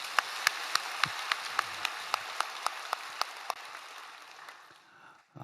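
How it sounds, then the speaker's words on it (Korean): A church congregation at a worship service claps in a steady, rhythmic beat that grows fainter and fades out near the end. "우리 하나님께 영광의 박수 올려드립시다"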